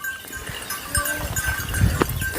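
A free-roaming herd of Sirohi goats bleats in scattered calls, some close and some farther off, over a low outdoor background.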